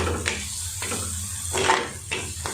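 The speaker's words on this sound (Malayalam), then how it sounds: "ഇത് ഈ എണ്ണയിലിട്ടിട്ട് നന്നായിട്ട് നമുക്ക് എണ്ണ തെളിയുന്നിടം വരെ നന്നായിട്ട് ഇതൊന്ന് വഴറ്റിയെടുക്കണം" Chili and coriander powder sautéing in oil for a Kerala fish curry, a close soft sizzle broken by rhythmic spoon scrapes against the pan, about four strokes.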